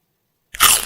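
A single sharp, close crunch after a moment of silence, like a crisp bite into ice cream.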